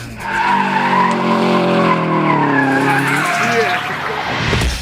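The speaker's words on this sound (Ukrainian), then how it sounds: "мы там гоняемся, кружим, палим резину" Car tires squealing loudly as a driver drifts in circles and burns rubber, a long sweeping screech with bending pitch over the engine, close and continuous with voices mixed in.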